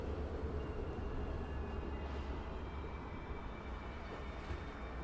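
A passing train in the video game Alpha Protocol, a low continuous rumble with a steady mechanical drone that holds at moderate level throughout, with no voices.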